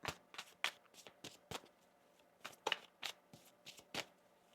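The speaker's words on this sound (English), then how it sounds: "One more shuffle here." Quick papery riffles of a tarot deck being shuffled, in two bursts of several flicks each, soft and close, with no talking.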